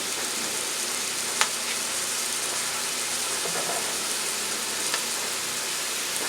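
Red and orange peppers sizzle in oil in a pan, a steady, even crackle and hiss with a couple of sharper pops, close by and with no voices.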